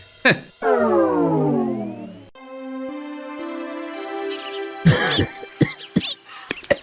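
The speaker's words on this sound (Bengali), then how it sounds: "আপনার তো দেখছি ভালোই কাশি হয়েছে।" A cartoon king with a cold coughs in several harsh, rough bursts, the last ones coming in a quick cluster. Sustained tonal effect sounds play between and before the coughs.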